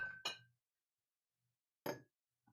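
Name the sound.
stirring a cocktail in a glass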